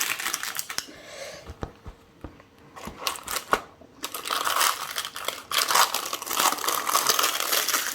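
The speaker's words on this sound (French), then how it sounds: "il va falloir que je décolle mon papier." Baking paper being peeled off a mocha yule log, a long close run of crackling, crinkling rustles that stops briefly and then builds into a denser, louder tearing crinkle, with no talking.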